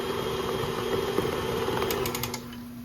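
An electric hand mixer beats cake batter in a bowl, a steady close whirring motor hum that runs throughout with no talk.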